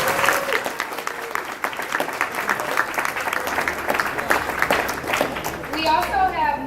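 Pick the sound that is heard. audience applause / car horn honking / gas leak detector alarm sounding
audience applause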